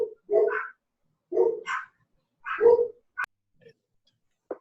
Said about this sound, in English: do you hear the dogs in the background?